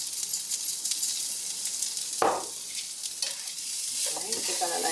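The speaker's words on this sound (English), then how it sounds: "Give that a nice stir." Chicken pot pie filling, seasoned with bay and salt, sizzles steadily in a pan while a spoon stirs it with scraping swishes, close and fairly loud, with no talking.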